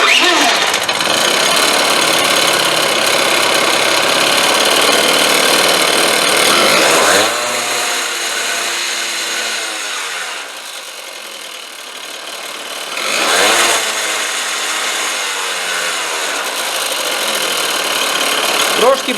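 A Honda scooter's two-stroke engine fitted with a Chinese carburetor runs loud and close, a buzzy steady drone that twice drops away and revs back up, with brief speech over it.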